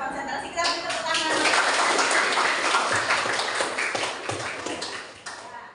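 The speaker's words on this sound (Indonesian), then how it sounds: "Berarti konsentrasi kita beri tepuk tangan." A class applauding, a dense burst of clapping from many hands that swells and then fades away, with a voice heard near the start.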